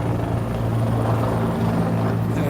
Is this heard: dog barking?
no